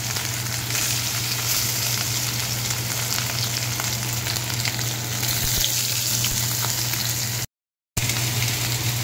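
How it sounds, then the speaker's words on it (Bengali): Paneer pieces fry in white oil in a kadai, giving a steady, close, dense sizzle with soft crackle that runs continuously for several seconds before a brief drop to silence. "কড়াইয়ে সাদা তেল দিয়ে পনিরগুলো ভাজতে দেব"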